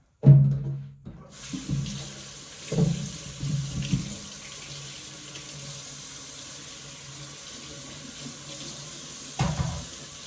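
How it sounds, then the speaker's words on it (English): Potatoes being washed under a running kitchen faucet, a steady close rush of tap water with splashy bumps and knocks as they are handled, easing to a continuous flow before one last splash. "so we're going to wash these potatoes and dry them"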